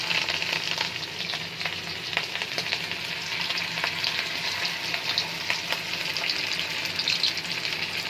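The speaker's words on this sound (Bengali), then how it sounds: "তেলটা গরম হয়ে গেলে এক এক করে মাছগুলোকে ছেড়ে দেবো" Fish frying in hot oil in a pan crackles and sizzles steadily and fairly close, with scattered sharp pops throughout.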